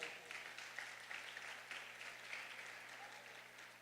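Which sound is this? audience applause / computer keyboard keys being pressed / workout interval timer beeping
audience applause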